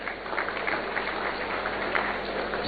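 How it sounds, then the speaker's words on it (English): Dense, even audience applause at a Ghanaian oil refinery event, a steady wash of many hands clapping at moderate distance, with no voices over it. "Please, another round of applause."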